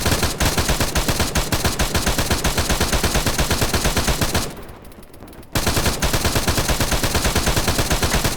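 Sustained automatic gunfire in the ArmA 3 military game, rapid loud bursts of shots repeating steadily, with a brief roughly one-second gap before the firing resumes.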